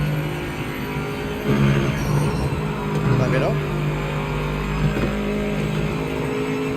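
Race car engine from the video game Project Motor Racing drones steadily throughout, with rising and falling revs, while someone speaks over it.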